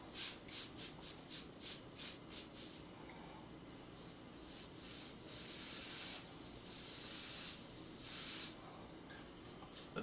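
An airbrush sprays white paint in a row of short rhythmic bursts of hiss, then longer continuous sprays, close and fairly quiet.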